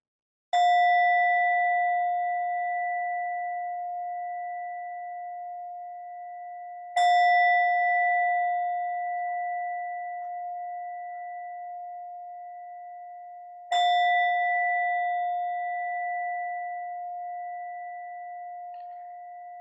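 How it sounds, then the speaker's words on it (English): A meditation bell is struck three times at slow, even intervals, each clear ringing tone sustaining and fading gently before the next strike, with silence otherwise. "In a moment, I'll invite the bell."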